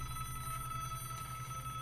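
A telephone rings in the Broken Sword point-and-click video game: a steady, faint electronic ring held evenly for a couple of seconds against a low background hum.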